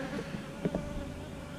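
Honeybees from a colony buzz faintly and close by in a brief, quiet drone, with a couple of slightly louder passes near the middle.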